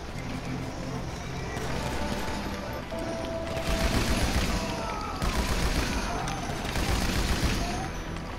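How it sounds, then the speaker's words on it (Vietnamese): Dense bursts of video-game gunfire in GTA V Online survival mode on PS4 fill the scene, with rapid shots and booms layered over continuous game noise and occasional talking. "Thôi quen bắn một viên là phải nạp đạn một lần."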